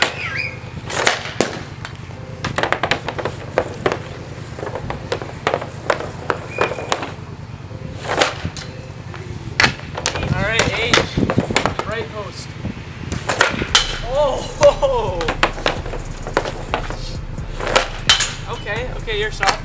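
Hockey pucks are shot and ring off the crossbar, producing sharp, close impacts spaced several seconds apart, mixed with stick clatter, as players talk between shots.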